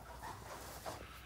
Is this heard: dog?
yes